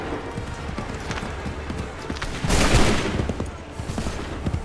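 Musket volley fire from a line of soldiers in Assassin's Creed 3, a broad roaring burst of gunfire rising midway over a busy battlefield bed of hoof clatter and commotion, with faint voices.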